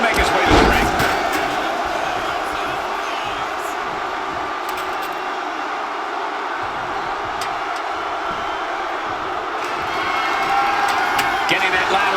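An arena crowd in the video game WWE 2K26 roars and cheers steadily, swelling at the start and end, with a commentator talking over the noise.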